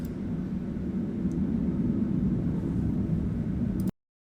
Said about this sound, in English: The noise pollution from planes is shocking.